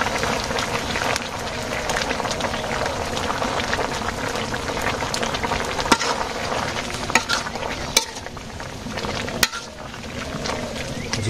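Cumin paste frying and stirring into a simmering curry, a steady broadband sizzle and bubble with scraping spoon strokes and a few sharp clinks, close and continuous with no voices.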